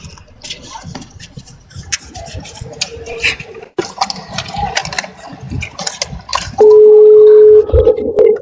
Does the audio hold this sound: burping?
no